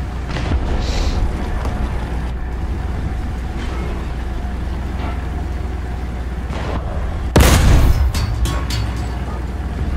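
Gunfire striking a player's plane during a video game dogfight: a sudden loud burst of impacts and cracks near the end, rising over a steady roar of engine and battle noise.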